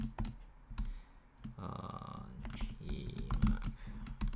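Rapid clicking of a computer keyboard while typing code, steady keystrokes close by, with a person talking quietly over the typing.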